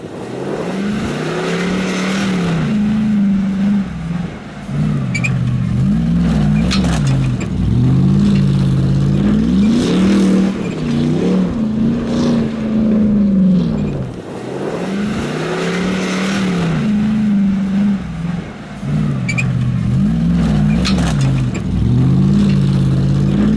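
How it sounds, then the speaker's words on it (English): A Hummer H2 engine roars through a freestyle off-road drive, its pitch rising and falling in repeated surges of revving and easing off, loud and close across the whole stretch. "a freestyle drive from the Hummer"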